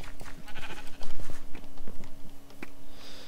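Sheep bleat in the Minecraft video game, several short game-sound bleats scattered over a steady background hum, with faint clicky steps and no speech.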